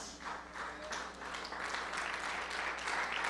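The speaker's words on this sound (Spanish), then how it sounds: "Esas palmas son para el Rey de Reyes y Señor de Señores" Congregation in a church service claps together, a steady dense patter that swells slightly and holds for a few seconds, fairly close and even, with no clear voices over it.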